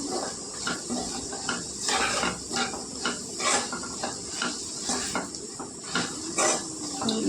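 A spoon scrapes and clinks against a pan while broad bean fry is stirred together with lentil powder, a steady run of close metallic knocks and scraping over a faint hiss, with no talking.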